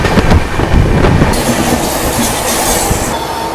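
The Vikrama Simhapuri Amaravati Intercity Express, train 12743, rumbles past close by with loud rhythmic wheel clatter and a brief high squeal of the wheels on the rails.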